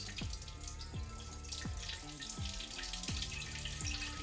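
Tap water runs into a cooking pot, a steady splashing flow with a quick succession of falling tones as the pot fills, close and alone.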